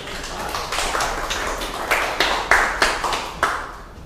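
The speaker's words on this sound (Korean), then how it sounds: "여기 박수로 환영해 주시면" An audience at a business-startup lecture greets a speaker with a handful of separate, fairly loud claps that land irregularly over a few seconds against a steady room hum.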